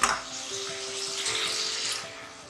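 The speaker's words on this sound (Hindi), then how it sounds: "अब हम इसके अंदर 2 गिलास पानी डालेंगे और कुकर को बंद कर देंगे" Water pours into a pressure cooker of browned mutton, a close, continuous splashing gush with a faint ringing tone that starts abruptly and tapers off after about two seconds.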